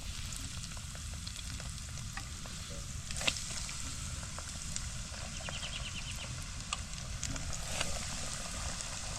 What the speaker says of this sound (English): I think I'll probably deep fry these for 3-4 minutes.